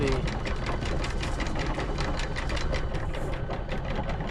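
A boat's anchor windlass motor whirs and clatters rapidly, steady, constant and fairly close, with faint voices underneath.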